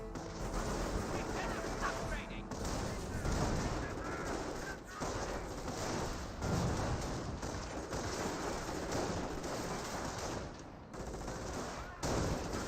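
Constant gunfire, machine-gun bursts and explosions from a Company of Heroes battle sound as a dense, continuous clatter, with a voice talking over the action.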